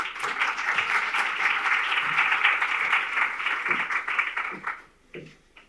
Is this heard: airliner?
no